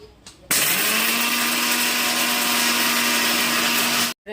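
A mixer grinder whirs loudly and steadily at close range for about four seconds after a brief quiet start, grinding garlic with salt, then cuts off abruptly.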